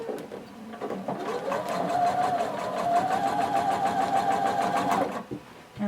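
A sewing machine runs in one steady, continuous burst for about four seconds, back stitching a 5/8 inch seam up the back of a pair of pants, with a needle drive that stays close and fairly loud before it stops.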